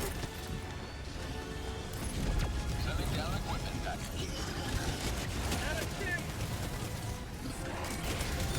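Dense, continuous battlefield noise from a Helldivers 2 max-difficulty fight in an automaton megacity, with gunfire and crashing impacts layered into a loud wall of sound while players talk over it.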